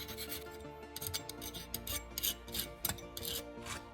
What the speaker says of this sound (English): Use a metal file and smooth every cut surface.